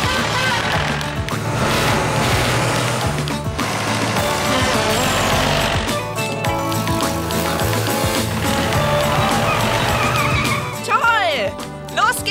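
Cartoon cars perform a stunt ballet, tires skidding and squealing loudly with revving engines over a busy music bed, with whooshing swoops near the end.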